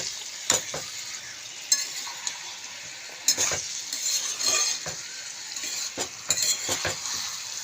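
A vegetable curry of beans, eggplant, potato, tomato, yardlong beans and lentil dumplings sizzles and fries in a pan while a spoon stirs it, with sharp metallic scrapes and clinks against the pan at irregular intervals.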